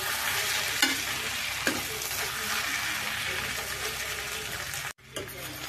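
Potato and singri sabji stirred in a pan, a close, steady sizzle with a few spoon knocks, briefly cutting out near the end before resuming.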